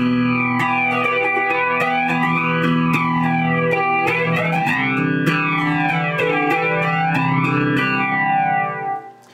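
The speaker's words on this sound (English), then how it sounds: "we got it on a flanger kind of sound going" Sustained electric guitar chords through a Strymon Mobius pedal's flanger effect, the jet-like whoosh rising and falling repeatedly, loud and steady before fading at the end.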